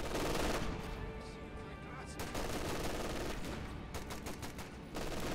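Gunfire in a Company of Heroes 2 battle: dense bursts of machine-gun and rifle fire crackle continuously, with sharp clustered volleys near the end, loud and busy throughout.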